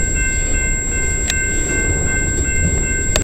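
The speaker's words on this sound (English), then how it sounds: "we got CPKC 137 departing London with CP 8156 and Union Pacific 8741" A CPKC freight train with locomotives CP 8156 and Union Pacific 8741 departs London, Ontario, heard as a steady, loud rail rumble with brief sharp transients, no talking.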